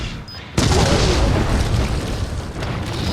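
A detonated explosive bursts in Resident Evil 7 on PS5, a sudden loud boom after a brief quieter lead-in, followed by a sustained roaring rumble that stays dense and loud to the end.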